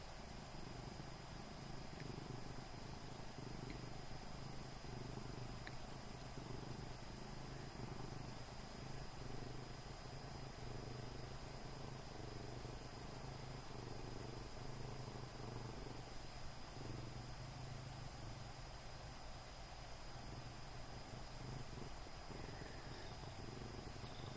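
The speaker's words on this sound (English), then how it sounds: "Can you hear him purring?" A big male cat purrs softly and steadily in a low, continuous rumble, quiet and close, with no talking over it.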